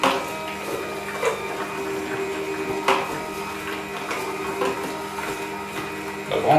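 A Severin ES3567 slow juicer presses apple, giving a steady close motor drone with a tonal hum and irregular soft crunching and squeaking as the fruit is crushed.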